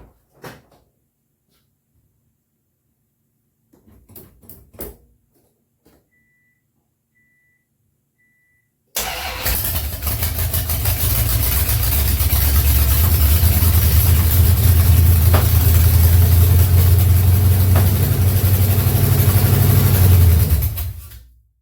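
A Honda fitted with a swapped-in 440 engine cranks and fires after a few faint clicks and shop noises, then settles into a loud, steady, rumbling run that continues for about twelve seconds before cutting off.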